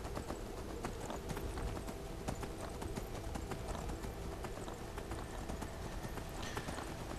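Horse hooves clip-clop steadily in the video game Skyrim, a continuous rhythmic clatter of hoofbeats over a dense background of game sound, with no speech.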